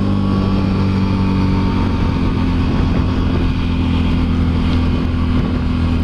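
A Can-Am Renegade 1000 ATV engine runs at a steady idle outdoors in Belgium, a constant loud, deep droning hum that holds unchanged throughout.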